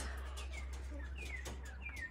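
Pigeons and ringneck doves in a farm aviary chirp and call in short repeated notes over a steady low hum, fairly faint and at some distance.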